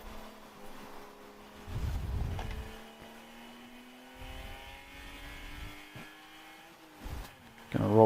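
A race car in a ChampCar endurance event at Indianapolis brakes hard into turn 12. A steady, close engine drone holds droning harmonics, with low rumbling bursts, and swells to a loud roar at the end.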